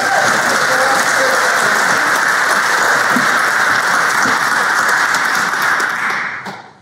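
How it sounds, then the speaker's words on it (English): Audience applause at a legacy celebration honoring David Krieger, a dense continuous roar of clapping for the master of ceremonies, loud and sustained throughout before tapering off at the very end. "Would you all join me in a round of applause for our professional master of ceremonies?"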